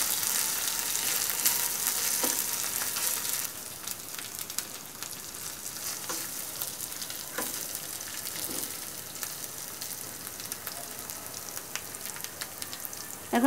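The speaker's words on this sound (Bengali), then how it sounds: "ভালো করে একটু তেলের সাথে কষিয়ে নিব, যাতে আদা রসুনের কাঁচা গন্ধটা চলে যায়।" Ginger-garlic paste sautéing in hot oil for a fish roe curry, a soft continuous sizzle and crackle with occasional faint stirring ticks, fairly quiet and with no voices.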